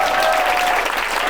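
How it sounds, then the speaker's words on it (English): Loud, dense applause from a comedy club audience at a stand-up show in London, a close, continuous roar of many hands clapping that stays strong for the whole short burst. "Round of applause for this man and his broken heart"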